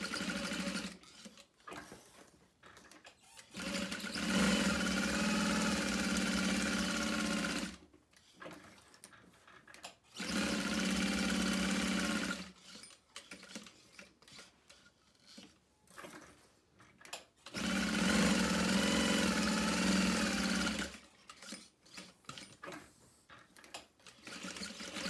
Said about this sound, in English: hopefully my machine does okay with the thin cotton